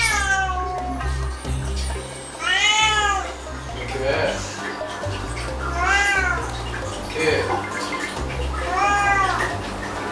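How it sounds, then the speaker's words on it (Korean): A house cat meows plaintively at a closed door, three drawn-out, rising-and-falling cries spaced a few seconds apart, close and fairly loud, with a person speaking softly under a steady low room hum. "애타는 야옹 소리에 결국 다시 문이 열립니다."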